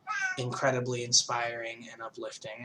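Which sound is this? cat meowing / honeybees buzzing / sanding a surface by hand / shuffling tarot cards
cat meowing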